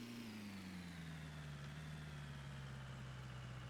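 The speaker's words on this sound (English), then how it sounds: "you can hear the engine just revving" A vehicle engine revving in a snow plowing simulator video game drones steadily throughout, its pitch sliding slowly downward as it revs and settles, loud and continuous with no talking.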